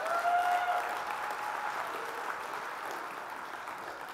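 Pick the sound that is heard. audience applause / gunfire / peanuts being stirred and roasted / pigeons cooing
audience applause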